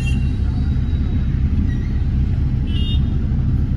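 A car pulls away at the start of a road trip to Konkan, its steady engine rumble and road noise filling the cabin, with a brief horn toot near the end.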